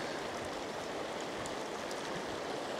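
Fast-flowing pocket water in a desert canyon stream rushes in a steady, close, broadband wash without pause, with no voices.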